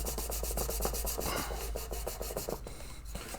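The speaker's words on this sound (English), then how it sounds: "So what we want to do is just give it a nice" Quick rhythmic rubbing strokes go back and forth, a steady scratchy sound of a guitar fret being polished close by with no talking.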